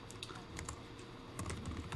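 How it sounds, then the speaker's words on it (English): Fast clicking keystrokes on a computer keyboard in a lecture setting, steady and fairly faint, with no talk. "we're going to just type in"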